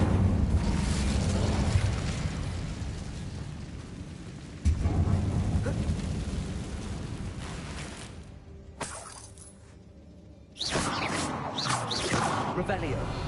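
Fire spell erupting in a Hogwarts wizarding video game, a sudden whooshing blast with crackling roar that swells, fades, then flares again, with a voice over it.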